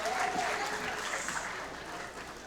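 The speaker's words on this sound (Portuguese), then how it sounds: "Um aplauso" Audience applause at a comedy hair-salon show, a short, dense burst of clapping, fairly faint and fading slightly over the clip.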